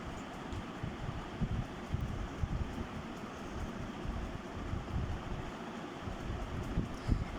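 Wind sweeps across an open field, a steady low roar with gusty buffeting against the microphone, fairly faint and with no voices.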